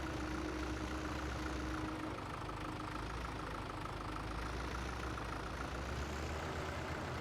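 Steady idling vehicle engine in Farming Simulator 17, a continuous low rumble held at an even level for the whole stretch, with no voices over it.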